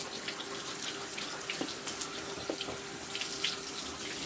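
Tap water runs steadily at a sink while a mini doodle is groomed, a soft continuous wash with faint splashes and small brush or handling noises, no talking.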